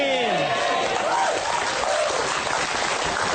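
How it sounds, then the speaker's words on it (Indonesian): An audience claps steadily in a dense wash of applause while a voice speaks over it. "Nah, tepuk tangan."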